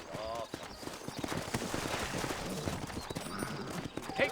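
Horses' hooves clip-clop in Red Dead Redemption, a steady rhythmic trot moving along a town street while someone speaks over the top and a horse whinnies briefly.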